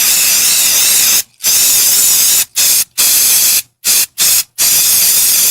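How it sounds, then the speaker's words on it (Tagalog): Bygone Shield Defense insecticide sprayed from a can in six loud bursts, each hissing spray lasting roughly a second with short silent gaps between, close and alone without talk. "Human ako i-spray direkta sa lamok, langaw ug ukok."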